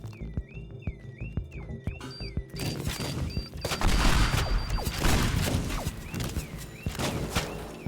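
Bombs and missiles exploding in the destruction game Teardown, opening with a string of quick sharp reports before a heavy blast sets off a long, loud rumbling barrage of explosions and crashing debris.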